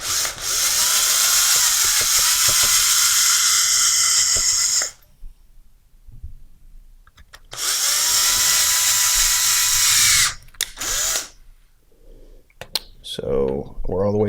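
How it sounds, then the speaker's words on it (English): An electric drill bores out the plastic base of a cup for a Ranger Powertube fitting, whining loudly in two long bursts separated by a quiet pause, followed by a few short spurts as the drill is pulsed. "Now with my bit in my drill, just drill it out."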